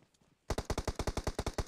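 Rapid automatic gunfire in a battle royale video game, a burst of about a dozen evenly spaced loud shots after a brief quiet start.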